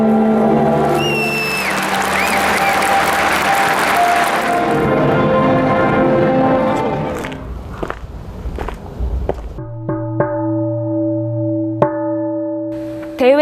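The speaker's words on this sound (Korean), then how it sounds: "대회의 시작을 알리는 경종 10타가" A ceremonial bell struck to open a religious centennial celebration in a World Cup stadium, ringing out in sharp metallic strikes with sustained resonant tones among crowd noise and a shuffling, busy stadium atmosphere.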